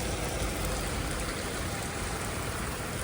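Heavy rain pouring down in a dense, loud, unbroken hiss with steady spattering, no voices over it.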